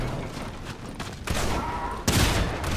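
Gunfire in the video game Fortnite comes as rapid, loud bursts of shots with mechanical clatter, the volume rising sharply in two waves.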